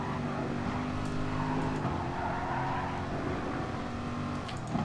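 Race car engine on the Nordschleife in GT Sport as the car brakes into a curve, a dense, steady engine roar with shifting tones, fairly loud and continuous with no talk.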